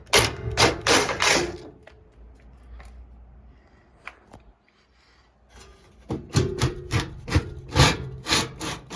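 An HVAC blower assembly is worked out of its metal housing, giving repeated close scraping and rubbing strokes in bursts, a quieter stretch in the middle, then more rhythmic scraping.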